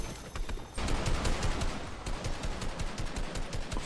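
Fortnite gunfire rattles in fast, steady automatic bursts, loud and continuous after a brief quieter start, with no voices.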